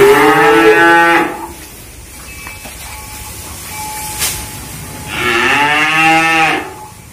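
A two-year-old Peranakan Ongole (PO) cow moos twice, each long, loud, close call lasting about a second, separated by a quiet stretch with faint background hiss.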